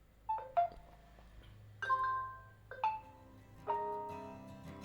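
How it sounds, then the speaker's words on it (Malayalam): Short, pleasant notification tones from a phone running ColorOS 7 play one after another, several bright chiming blips and brief melodic jingles with gaps between them, close and clear with no speech. "ചെറിയ ചെറിയ നോട്ടിഫിക്കേഷൻ ട്യൂൺസ് ആണ് ഇവർ കൊണ്ടുവന്നിരിക്കുന്നത്"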